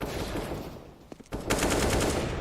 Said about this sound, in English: just dodging those bullets. They zing right by.